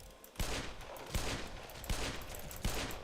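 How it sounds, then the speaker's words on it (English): Bolt pistol fire in Black Mesa comes as four evenly spaced heavy shots, each a sharp crack over a constant wash of background noise, fairly loud and close with no talking. "I've used a bit of my bolt pistol"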